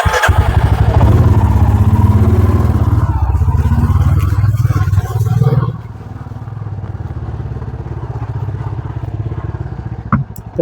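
Motorcycle ridden on an open road near Siliguri, its engine drone loud and close alongside heavy wind rush, then dropping to a quieter, steadier hum partway through, with a sharp clatter near the end.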